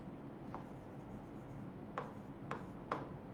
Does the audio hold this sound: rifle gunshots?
no